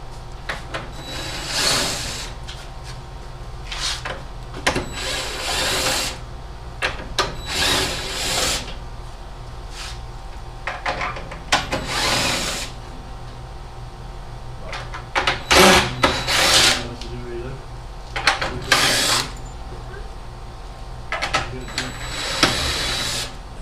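A power drill removes a lag bolt from a desk being turned into a workbench, with repeated loud bursts of whirring and pauses between them, alongside wood creaks and small knocks.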